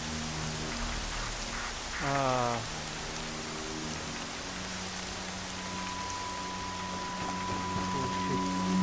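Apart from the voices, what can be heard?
rain in the video game Horizon Zero Dawn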